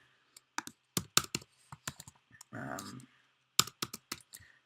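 Rapid clicks of typing on a computer keyboard during a coding session, with irregular bursts of keystrokes and a short rushing noise in the middle, fairly close and moderately loud.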